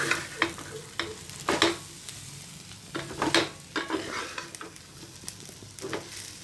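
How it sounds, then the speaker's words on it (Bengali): Flattened rice being stirred and tossed in a frying pan, with a quiet sizzle and repeated scraping strokes of a spatula in uneven bursts, close and alone. "চিড়েগুলোকেও ঢেলে দিলাম। তো একসাথে মিক্স করে দেবো।"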